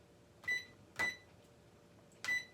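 A microwave oven's control panel beeps three times as the cooking time is set and started, short clear electronic tones spaced apart in a quiet kitchen.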